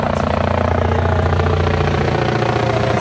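A police helicopter flies over a large summer music festival, its loud continuous rotor thrum and engine roar steady and close, filling the scene with no talking.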